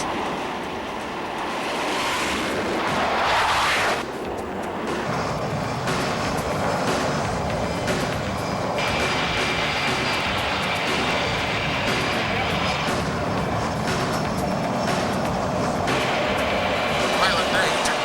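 A small plane drones steadily in flight, a broad continuous roar with a faint high whine, holding fairly close and loud throughout with no voices.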